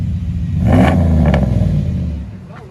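A Dodge Ram with a 5.9L Magnum engine and a Magnaflow Magnapack muffler revs briefly, a loud, close, deep exhaust rumble that swells and then settles back toward idle.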